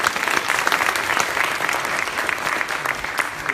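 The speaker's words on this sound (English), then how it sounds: "Let's give the mayor a round of applause." Sustained crowd applause at a town hall meeting in Fremont for a member of Congress and a mayor, loud and steady throughout with dense overlapping claps and no pause.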